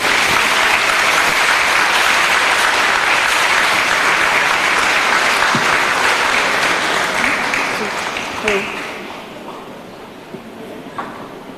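A crowd claps steadily and loudly for several seconds, then the applause thins out and fades, leaving scattered claps and a quieter room.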